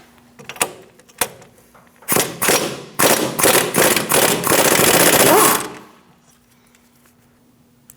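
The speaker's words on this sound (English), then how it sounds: "Now we're going to use a 15mm socket and remove this nut for our pinch bolt" An impact wrench with a 15mm socket hammers the pinch bolt nut off a Chevrolet Sonic steering knuckle, a run of loud rapid rattling bursts after a few isolated knocks, then stopping into quiet.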